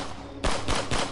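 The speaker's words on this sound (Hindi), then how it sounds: "उसने अपनी बंदूक उठाई और एक के बाद एक गोलियां चलानी शुरू कर दी।" Rapid gunshots from a gun fire one after another as a sound effect in a forest horror story about a Wendigo, loud, close and sharply punctuated.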